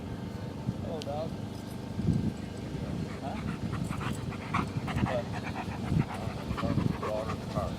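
A dog pants steadily near a car during an outdoor sailplane flying session. A voice speaks briefly over the quick, rhythmic breathing.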